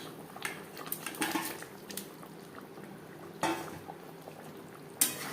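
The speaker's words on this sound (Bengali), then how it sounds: "ফুটে ওঠা পর্যন্ত অপেক্ষা করব" Katla fish curry gravy simmering in a pot at home, a low steady bubbling hiss with a few sharp clinks of utensils against the pot, no voices.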